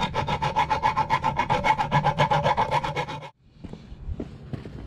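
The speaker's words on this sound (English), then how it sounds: "I filed it down a little bit" A file rasps rhythmically back and forth on a Craftsman Tecumseh snowblower auger engagement part clamped in a vise, about a dozen brisk close strokes that stop abruptly, followed by faint handling noises.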